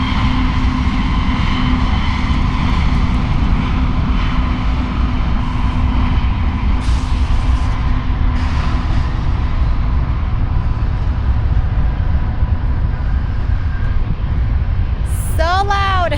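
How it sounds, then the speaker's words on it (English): A loud train passes as a continuous heavy rumble and roar from nearby, steady throughout, ending with a brief high squeal. "There goes another train. Another loud train."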